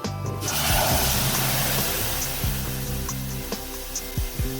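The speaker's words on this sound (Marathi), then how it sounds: "असा आवाज आला सर त्याचा अर्थ आहे की तुमची फोडणी छानपैकी बसलेली आहे" Masoor dal poured into hot tempering in a pan sets off a loud, steady sizzle and watery hiss that fades gradually over several seconds, with a few soft clinks.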